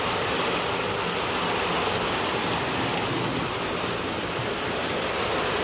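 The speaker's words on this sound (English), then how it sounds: "See how the rain's coming down?" Heavy rain pours down steadily on a birthday, a dense, unbroken hiss of drops striking surfaces close by, with no voices.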